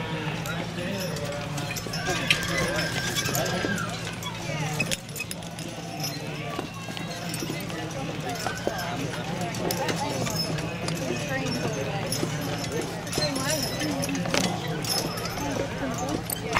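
Hooves of Clydesdale horses clip-clop steadily at close range, with occasional jingling harness, over a continuous low rumble and people talking throughout.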